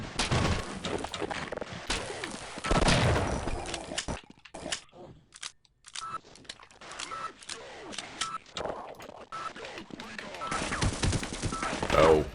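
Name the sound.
sentry guns firing in video game Half-Life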